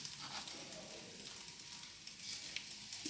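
Spices crackle and sizzle in hot soybean oil while masala rice is being cooked, a continuous fine spitting hiss with scattered pops, fairly quiet and close, with no talking.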